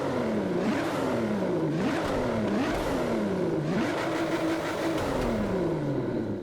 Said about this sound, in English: Love the sound of this V6 engine.